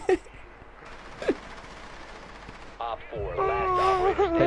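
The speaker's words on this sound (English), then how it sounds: "They were shooting the camera" Gunfire in Rainbow Six Siege as a surveillance camera is shot, with sharp shots near the start and a brief burst mid-clip, followed by a voice talking over game noise.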